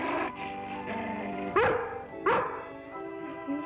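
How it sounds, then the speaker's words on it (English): A dog, a collie on a farm near a barn, gives two loud close barks with a tonal, whining edge, set against a steady droning background, and a softer yelp follows near the end. "Looks like she's barking at something back there."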